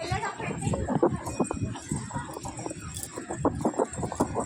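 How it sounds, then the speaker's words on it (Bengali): Hooves of horses walking on a sandy beach beside the sea in Andhra Pradesh clip-clop steadily at close range, under near-constant conversation. "ঘোড়ায় কত ঘোড়া আছে"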